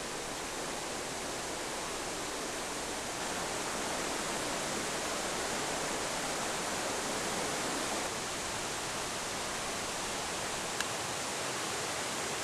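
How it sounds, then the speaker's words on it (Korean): A waterfall pours into a pond in a mountain valley, making a steady, unbroken rushing roar at moderate distance with no voices. "폭포에서 떨어진 물이 선녀못을 채우고 계곡을 따라 흐른다."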